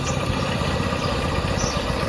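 A motorcycle engine idles steadily while warming up in a village, giving a continuous low, even rumble with faint vibration, close and fairly loud, with no voices.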